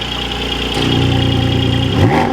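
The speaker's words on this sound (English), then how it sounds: "So now setting off in the GT4 Cayman" A Porsche 718 Cayman GT4 engine idles steadily and close by, its low hum deepening slightly partway through and swelling briefly near the end, with no talking.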